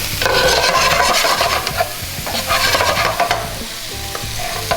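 Noodles and parsley tossed in a hot sizzling pan for shrimp Alfredo: steady frying sizzle with repeated scraping, shuffling stirs in a loose rhythm, close and fairly loud, with no talking.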